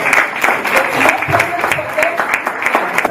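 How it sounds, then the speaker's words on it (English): An audience at an international conference dinner in Kigali, Rwanda, breaks into dense, continuous applause, loud and close throughout with a faint voice underneath. "So clap for them."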